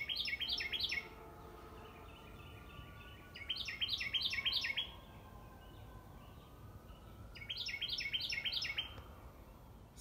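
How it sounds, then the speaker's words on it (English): Small birds chirping outdoors on a fine day by a backyard tiny tree house and deck, three bursts of rapid high tweets at moderate distance, separated by quieter ambient pauses. "You can actually hear the chirping sounds of the birds in the background."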